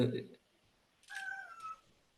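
A cat gives a single drawn-out meow with a falling pitch, fairly close and moderately loud, following a short burst of talk during a live online meeting call.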